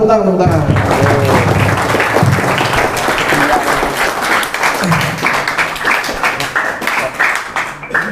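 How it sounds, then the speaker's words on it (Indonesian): An audience at a school Qur'an presentation applauds, a dense, loud burst of clapping that continues steadily and then thins out, with voices mixed in. "Tepuk tangan."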